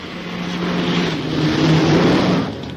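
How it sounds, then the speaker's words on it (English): A car engine in a 1950s rural setting, a steady low rumble building and holding at moderate loudness, alone without any talk. "I hear a car."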